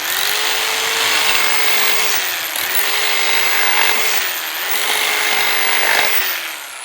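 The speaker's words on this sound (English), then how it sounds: "We're doing the Craftsman corded on a piece of yucky wood here." A Craftsman corded jigsaw cuts through a piece of engineered flooring wood, buzzing loud and continuous with a slight rise and fall in pitch as the blade works the cut.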